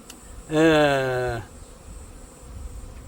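A honeybee near a hive makes one close, loud buzzing drone lasting about a second, which then fades back to a quiet background.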